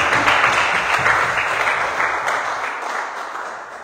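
A church congregation at a Sunday service claps together in a loud, dense burst that slowly tapers over a few seconds.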